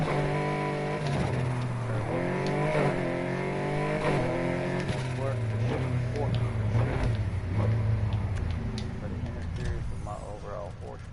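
A sports car in the Need for Speed Heat racing game, tuned for a quicker 0 to 60, launching hard with a steady engine roar that rises in pitch through several gear shifts, mixed with game music and talk over it throughout.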